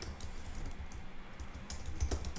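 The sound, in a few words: typing on a computer keyboard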